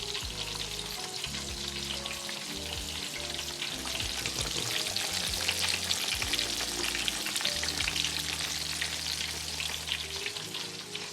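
Catfish pieces fry in hot grease with a dense, steady sizzle and crackle, punctuated by faint low clinks and scrapes of utensils, and no one speaks.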